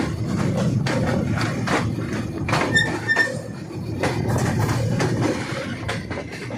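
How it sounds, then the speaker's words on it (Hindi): The 38 Down Fareed Express, a Pakistan Railways train, rolls slowly into Raiwind Junction station with rhythmic wheel clatter, rumbling carriages and a brief metallic squeal of brakes. "38 डाउन फरीद एक्सप्रेस स्टॉप करते हुए रायविंड जंक्शन के रेलवे स्टेशन पे"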